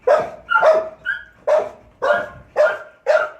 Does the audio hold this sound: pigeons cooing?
no